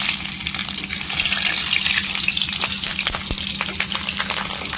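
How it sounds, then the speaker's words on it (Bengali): Bay leaves, panch phoron and green chillies fry in hot oil with a loud, dense, continuous crackling sizzle close up, dotted with faint sharp pops, and no voices. "ফোড়নটা একটু ভালো করে ভেজে নেবো।"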